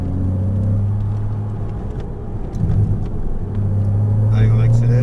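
Porsche Cayman S driven on a driving course, engine rumbling low and steady from inside the car, dipping briefly then rising again as it accelerates, with an instructor talking over it.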